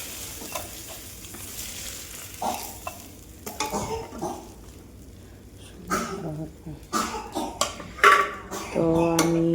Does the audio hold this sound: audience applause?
no